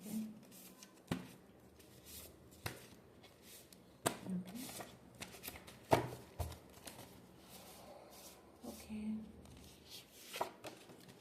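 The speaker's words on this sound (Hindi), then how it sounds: "मैं इसको थोड़ा सा शफल कर लेती हूँ" Cards shuffled for a reading, soft irregular riffles, flicks and papery slaps close by at low level, with scattered quiet handling sounds between them.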